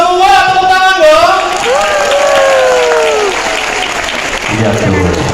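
A loud crowd at a closing celebration in Hong Kong claps and cheers in a continuous roar, with tonal whistles or sustained voices swooping over the applause and people talking nearby.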